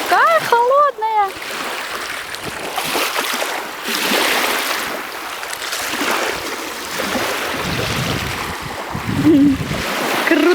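Water at the shore of Lake Baikal, with cold, clear water moving and splashing gently near the listener while a person talks over it.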